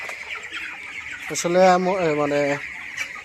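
Thirsty broiler chickens in a hot farm shed make a drawn-out, wavering squealing cry over a background din of the flock, and a voice speaks briefly.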